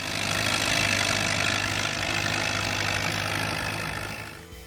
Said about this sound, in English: Its 201 cubic inch, 4-cylinder engine had a firm, slightly raspy growl